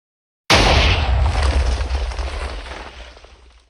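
A Minecraft TNT block detonates in one sudden, loud, deep boom that fills the space and then rumbles and fades slowly over a few seconds, with no talking.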